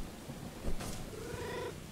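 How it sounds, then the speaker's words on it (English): A cat meowing in the video game Stray: one short meow over a low purring, rumbling background, fairly close and moderately loud. "I can meow when I'm running."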